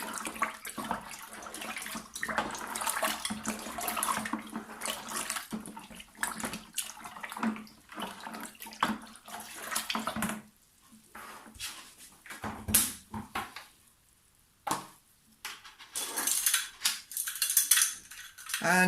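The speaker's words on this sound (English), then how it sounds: "I will now give that a stir." Rhubarb wine must being stirred in a container after yeast nutrient goes in, with irregular sloshing, scraping and clinking of the spoon that pauses briefly and then resumes.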